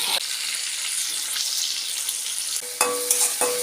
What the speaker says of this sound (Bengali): একে একে মাছগুলো ভেজে নিই